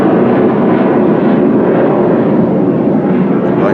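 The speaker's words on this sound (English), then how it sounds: "I'm going to wait until that plane goes by so I can hear myself think." Loud, steady roar of an airplane passing low overhead on the flight path to a nearby airport in North Fort Worth, with broadband engine noise filling the whole clip and no voices.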